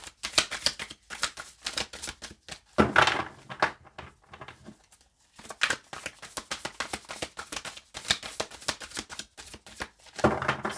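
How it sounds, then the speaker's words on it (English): A deck of cards is riffled and shuffled repeatedly, bursts of crisp fluttering snaps separated by short pauses, close up with no talking. "We'll give it one shuffle and then I'm going to start pulling from the deck."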